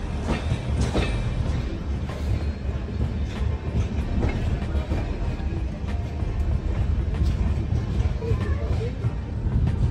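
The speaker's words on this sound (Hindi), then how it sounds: "तो गाइस अभी ट्रेन स्टेशन पे आ गई है" A train arrives at Gonda Junction railway station in India, a loud, continuous close rumble with rhythmic clickety-clack of wheels over rail joints and occasional metallic knocks throughout.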